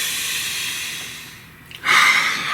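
A person breathes deeply near the microphone: a long, airy exhale fades to near quiet, followed by a sharp, loud inhale through the nose.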